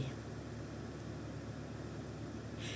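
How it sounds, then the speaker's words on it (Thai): A 2019 Toyota Camry 2.5 hybrid Premium's engine runs to charge the battery, a steady, even rumble with a broad hiss throughout and no breaks. "เสียงเครื่องยนต์นะคะกำลังชาร์จ เข้าตัวแบตเตอรี่"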